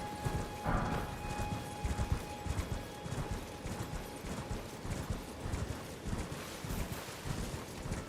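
Horse hooves clip-clopping in the video game Elden Ring, a steady run of rhythmic hoof beats at moderate loudness over a busy game soundscape, with no talking.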